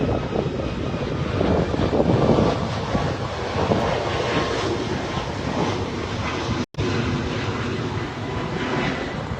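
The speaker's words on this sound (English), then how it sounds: "We have another plane here." An airplane passes overhead, a steady, loud broadband roar of engine and airflow that fills the whole stretch, swelling slightly early on, with one brief dropout near the end. No one speaks.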